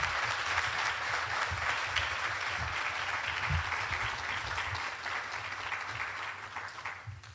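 An audience at a school move-up ceremony applauds two honored teachers with steady, moderately distant clapping that holds for several seconds before tapering slightly near the end; no speech over it.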